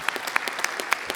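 Audience applause at a Métis self-governance conference honoring leaders, a short burst of scattered claps with individual sharp hand strikes standing out, moderately faint and without talk.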